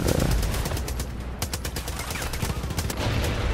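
Gunfire and explosions in the Far Cry Arcade video game, rapid sharp bursts of shots crackling over a dense, booming rumble that stays loud throughout.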